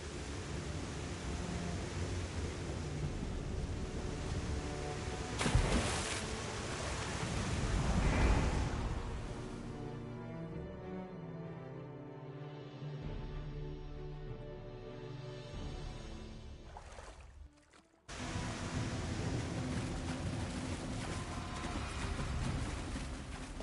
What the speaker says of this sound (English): Come on, before the storm decides to sweep us away.